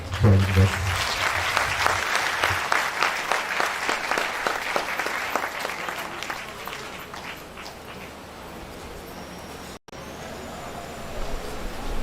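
Audience applause at a university matriculation ceremony in Lagos, a sustained wash of many clapping hands that slowly thins out and fades, with a brief cut near the end and faint voices underneath.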